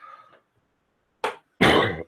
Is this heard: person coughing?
yes